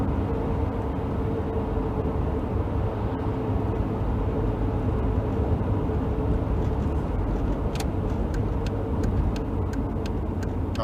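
A 1990s American-spec Volkswagen T4 Eurovan with about 77,000 miles is on the road, its steady broadband road and engine rumble holding at an even level throughout, with faint ticks toward the end.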